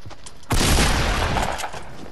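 A hand cannon gunshot in Fortnite, a single loud, bursting blast with a shattering crack and a roughly one-second decaying rumble.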